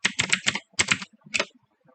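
Rapid typing on a computer keyboard while entering the Linux whatis command, with clustered bursts of keystrokes separated by short pauses, close and clear with no talking.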